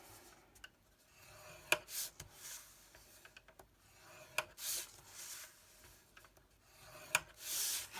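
A scoring tool presses and slides along cardstock for a hand-stamped gift box, producing faint, close scratchy strokes and soft taps separated by quiet gaps.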